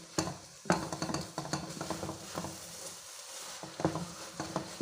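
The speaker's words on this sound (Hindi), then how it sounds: "तो अब हम इसको इस घी की मदद से भून लेंगे।" Carrot sweet being roasted in ghee while a spoon stirs it in the pan, giving a soft, steady sizzle broken by scattered clinks and scrapes, heard close and alone.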